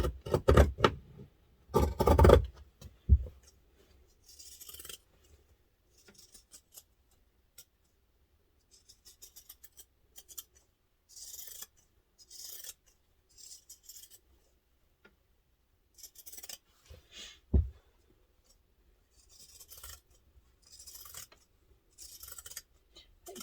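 Scissors snip through fabric for a laptop briefcase interior panel, giving a loud burst of cutting near the start and then scattered quiet clips and rustles with pauses between.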